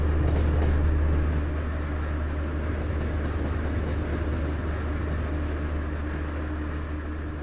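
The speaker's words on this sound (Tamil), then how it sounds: "ட்ரெயின் சத்தம் கேக்குதா உங்களுக்கு" A train in a simulator video game runs along with a steady low rumble and broad rolling noise, moderately loud and continuous with no speech, easing slightly after the first second.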